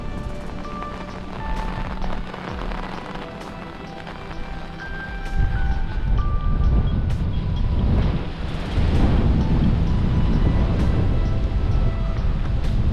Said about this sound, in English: And this wind is getting even worse.